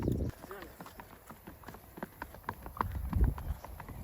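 Steady clip-clop of a mare's hooves on a hard surface, a quick regular rhythm close by, with some voices talking in the background.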